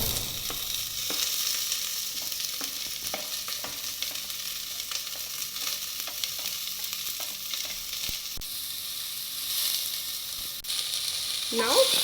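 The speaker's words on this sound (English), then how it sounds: "Now we are sauteing this onion." Steady crackling sizzle of sliced onions frying in hot oil for vegetable biryani, with occasional stirring clinks and scrapes throughout.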